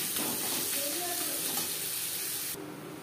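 Chopped onion and crushed garlic frying in a pan give a loud, continuous hiss and sizzle that drops in level near the end.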